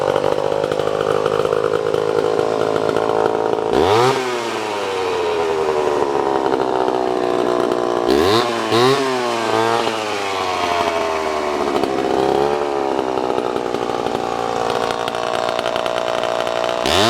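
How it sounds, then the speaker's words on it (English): Vintage Homelite C-7 chainsaw idling steadily, then revved hard several times with sharp rising and falling engine whines, loud and close with no talk. "We're taking a look today at a vintage running Homelite C-7 chainsaw."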